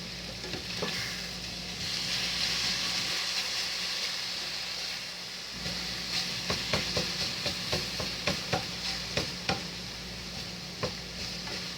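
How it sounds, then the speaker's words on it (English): Sizzling pepper steak meat is stirred in a pan, a steady fry broken by a run of sharp, rhythmic scraping and clacking strokes of a utensil in the second half, close and fairly clear. "All right, let's stir our meat."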